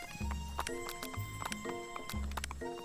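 Repeated video game horse whinnies and snorts with low harmonic calls recurring in a rhythmic pattern, clear and close, with no talking.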